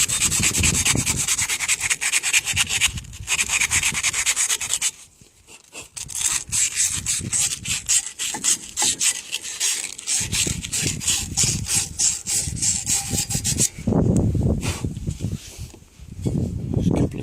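A file scrapes tiny burrs off a universal joint part in repeated rasping strokes, close and fairly loud, with a brief pause near the middle.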